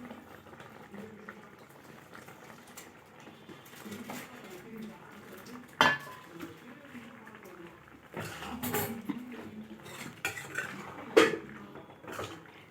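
Creamy cheese pasta being mixed in a pot: soft wet stirring with a few sharp clanks of a spoon against the metal, over a low bubbling background and a faint voice.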